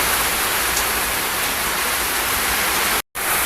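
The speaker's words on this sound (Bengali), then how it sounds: "আচ্ছা, বৃষ্টি হইতে থাকে, যতদূর হইতে পারে।" Heavy rain pours steadily and loudly on a street, a dense unbroken hiss that briefly cuts out near the end.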